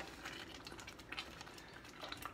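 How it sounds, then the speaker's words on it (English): Pot of orzo bubbling on a stove while halibut is cooked, a faint, steady watery burble with small pops and splashes close by. "it's bubbling away. I think everybody can hear that."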